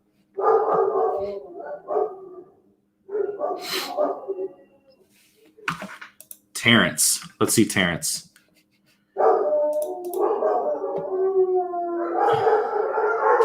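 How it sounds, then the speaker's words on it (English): Several dogs bark, howl and yip in bursts near the microphone, with someone talking between and over them indoors. "my dogs are going nuts"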